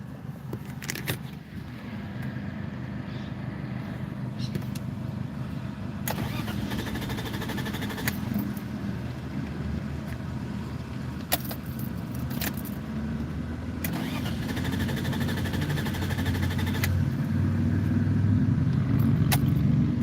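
A rare BMW with a fault keeps cranking without starting: a continuous close starter whir and engine churn that builds slightly louder over time, with a few sharp clicks and jangling keys.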